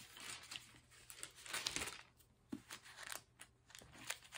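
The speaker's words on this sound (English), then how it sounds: "Onion skin pages stick together." Thin onion-skin Bible pages are turned by hand, giving crisp papery rustles and crinkles in bursts. The loudest swish comes midway, followed by softer page flicks. No voices are heard.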